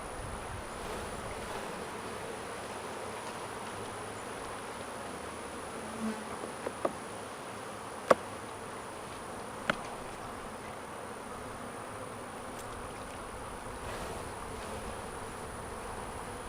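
Honey bees buzz around a hive box, a soft, steady drone filling the background with a few faint clicks and taps scattered through, heard without any talking.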